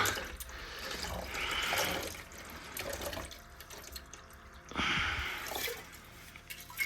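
Water poured into a vessel for heating in a freezing Himalayan village, a steady splashing gush that swells, eases off, then surges again, close and moderately loud.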